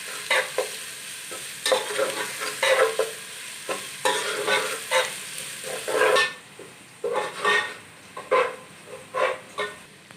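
Two spoons of ginger-garlic paste frying lightly with browned onions in a pan, sizzling steadily while a spatula scrapes and stirs in repeated close strokes, quieting near the end, with no talking.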